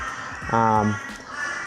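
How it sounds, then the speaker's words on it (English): A single loud crow caws once close by, a harsh harmonic call, with faint background noise around it. "sorry again about the crows"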